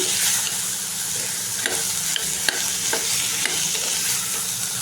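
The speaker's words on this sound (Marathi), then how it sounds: "आता हे मिक्स करायचं आहे मस्त आपल्याला। मिक्स करून घेते।" Chana leaf bhaji being stirred and fried in a pan, a steady sizzle with repeated scraping clicks of the spoon throughout, close and fairly loud, with no talking.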